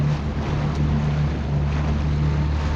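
A 2023 Yamaha GP1800R HO personal watercraft idles forward on its own across open water, its engine a steady low drone with wind and water wash running continuously around it.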